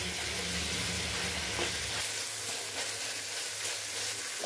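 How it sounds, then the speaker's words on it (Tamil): Ingredients for chicken curry sauté in a pan with a steady close sizzle and occasional stirring scrapes, continuous and fairly loud, with no voices. "ഇത് നല്ലപോലെ ഒന്ന് വഴറ്റി എടുക്കണം"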